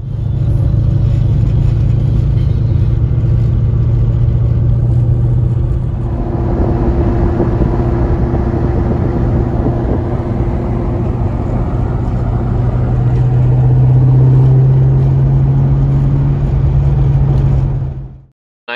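A 2003 Ford Mustang Mach 1 drives along a canyon road on the way to a car meet, its steady low engine drone and road rumble filling the cabin throughout, swelling slightly under acceleration before cutting off at the end.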